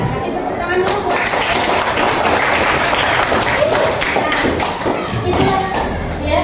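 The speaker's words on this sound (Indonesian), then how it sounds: "kasih tepuk tangan dulu, Bu." Steady, loud applause fills a classroom as students clap together, a dense continuous patter with a few thumps that holds at an even level throughout.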